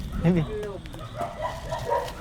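A few dogs bark and yip at a short distance, brief sharp calls mixed with people talking nearby.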